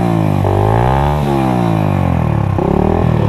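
A Honda 125 cc motorcycle with full modification revs hard at full throttle, its engine pitch climbing and dropping in repeated surges, loud and close throughout.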